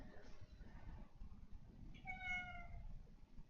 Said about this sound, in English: her meows are so cute